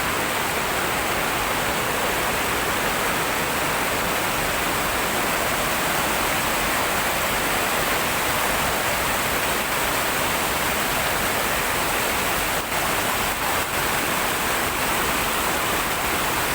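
A steady, full roar of rushing water flows without pause, loud and close, like a swollen stream pouring over rocks.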